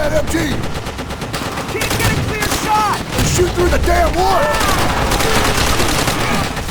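Machine gun fire in the World War II shooter Call of Duty: World at War, with loud rapid bursts and scattered shots among battlefield noise and someone talking over it.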